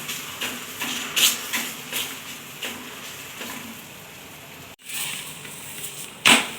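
Garlic paratha made from wheat flour roasting with ghee on a hot pan over full flame, giving a steady soft sizzle with a few sharper crackles and spits, near and alone.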